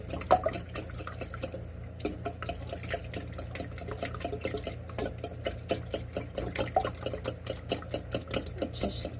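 Egg with pepper being mixed in a bowl: a rapid, steady run of close clinking and scraping strokes from a utensil against the bowl, with no talking.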